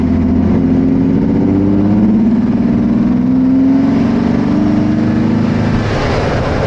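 Jeep Wrangler with a cold air intake, miked under the hood while accelerating: a loud, close engine drone with rising harmonic tones that climb and hold steadily throughout.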